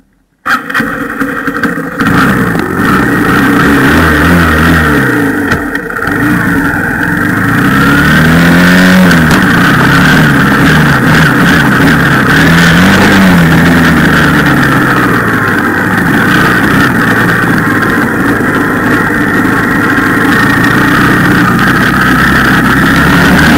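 A dirt bike engine revs loudly and close by, its pitch climbing and falling in repeated bursts over a steady running drone for about twenty seconds. No one speaks.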